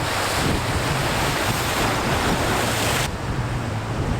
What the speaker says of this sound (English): See the water is coming in and just cutting away at the entrance here.